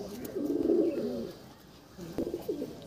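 Pet pigeons, a pair just released by their keeper, coo in two bursts of throaty, rolling calls, close and fairly soft, with a short pause between them.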